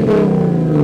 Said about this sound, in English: Rev, can you rev it? I want to hear it from the outside.